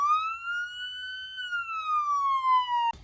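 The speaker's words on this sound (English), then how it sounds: "Number 3 function turns all the lights on along with the siren" A police siren from a Sound Off 400 series handheld siren controller on an unmarked police vehicle wails in one long sweeping tone, rising then slowly falling, loud and close, cutting off abruptly at the end.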